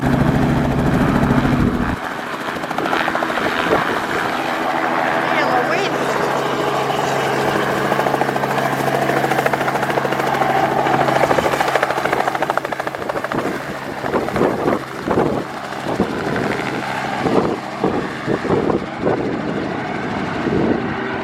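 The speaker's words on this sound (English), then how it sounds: "That's the first time I've ever felt wind from a chopper" A helicopter roars nearby with steady rotor thumping and engine whine, strong wind buffeting throughout, then the noise grows choppier and fades slightly.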